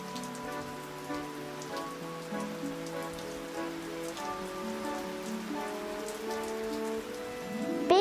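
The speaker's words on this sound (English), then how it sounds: "Lots of rain." Heavy rain with big drops patters steadily on a surface, its soft constant hiss sitting under gentle sustained musical tones throughout.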